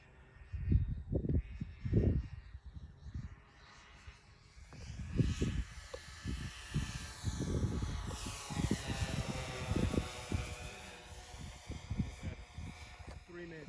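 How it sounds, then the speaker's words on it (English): The droning hum of four engines on a radio-controlled B-17 model plane rises and shifts in pitch as it flies on a windy day, with someone talking intermittently close by over the engine buzz. "All four of them engines sound pretty cool together though."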